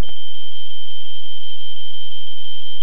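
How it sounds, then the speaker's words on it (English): A smoke detector alarm sounds a single continuous, piercing high electronic tone that holds loud and steady for the whole stretch, with faint low rumble underneath. "I wished every senior citizen would get a smoke detector"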